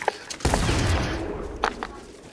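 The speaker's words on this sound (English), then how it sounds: "Is that you shooting or someone else?" Gunfire in an online shooter game, a few sharp shots with a louder burst around the middle and another pair of cracks later, fairly close and under otherwise quiet game ambience.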